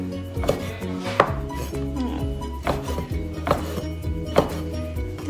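A knife chops vegetables on a cutting board while making Lao larb with spinach, giving several sharp, close knocks spaced about a second apart over a steady low hum in the room.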